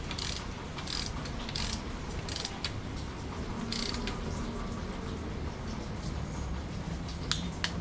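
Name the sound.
torquing cylinder head bolts on Type S engine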